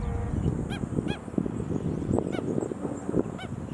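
A stilt parent gives sharp, repeated high yelping alarm calls several times at the Cooks River, over a rumbling, breezy background, insistent cries from close by.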